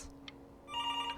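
A telephone rings in the video game Before Your Eyes, a bright repeating electronic ring that swells in over a quiet dark ambience, near and fairly loud, with no talk.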